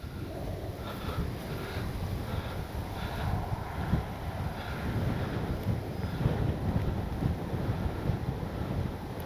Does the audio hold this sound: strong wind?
yes